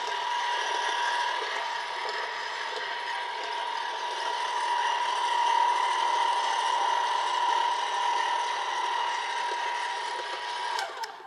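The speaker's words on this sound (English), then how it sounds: "pasta machine here is kind of a Rolls Royce" An electric pasta machine rolls out pasta dough with a continuous, steady mechanical whirring and ratcheting hum that stays loud and close for the whole stretch, with no talk.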